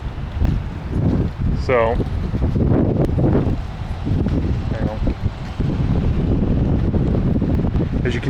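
Gusty wind on a breezy sunny day in Orange, Ohio buffets a body-worn microphone with loud, rumbling bursts of wind noise, while someone talks and a bird chirps briefly.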